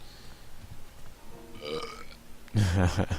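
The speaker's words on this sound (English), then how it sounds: "Burping gold flakes." A character in the video game Grim Fandango burps up gold flakes, a loud, throaty belch rising near the end after quieter game sounds and a brief gurgle.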